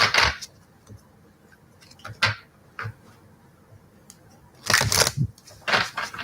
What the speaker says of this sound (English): we're going to shuffle a little bit here